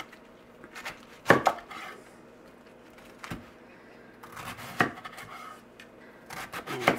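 Knife chopping food into four pieces on a cutting board while prepping vegetables for a pot roast: a few sharp, separate cuts spaced irregularly, close and fairly loud, with quiet handling and board rubs in between.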